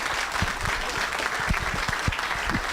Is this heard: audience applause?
yes